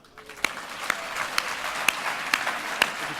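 Audience applause for a group winning an economics prize at an awards ceremony, a dense steady wash of clapping from many hands that builds quickly and holds, with a few sharper claps standing out near the front.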